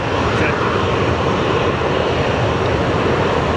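A WestJet airliner at Sky Harbor International Airport, a loud, steady broadband engine roar that fills the whole clip without fading, heard close and without a break.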